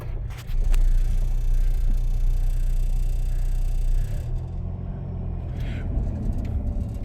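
A neglected Saturn car, driven after years of sitting, rumbles steadily from inside the cabin with a low engine drone, while voices talk over it.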